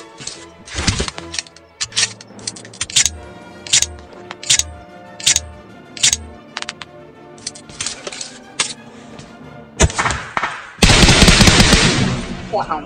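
Bursts of automatic gunfire from the mobile game PUBG Mobile crack repeatedly and loudly in short, uneven volleys, ending in a long sustained barrage.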